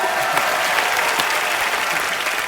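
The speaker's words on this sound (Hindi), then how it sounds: "गोविंदा सर के लिए जोरदार तालियां हो जाए।" A studio audience at a Hindi comedy talk show gives loud applause for actor Govinda, dense continuous clapping close and steady throughout.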